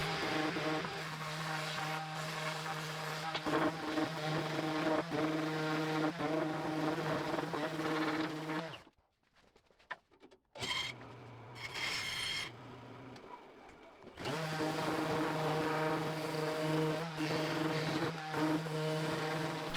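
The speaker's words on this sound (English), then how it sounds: "just make it round with the sander" An electric sander whirs steadily while rounding a handle cut from a wooden 2x4, its motor tone loud and close, cutting out for a few seconds midway before starting up again.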